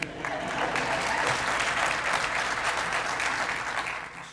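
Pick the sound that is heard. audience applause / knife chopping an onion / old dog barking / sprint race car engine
audience applause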